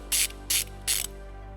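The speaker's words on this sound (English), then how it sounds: "We're going to remove this nut using a 12mm socket." Ratchet wrench with a 12mm socket loosening the positive battery terminal nut on a 2017 Toyota RAV4: three quick bursts of rapid clicking, close and clear over a low steady hum.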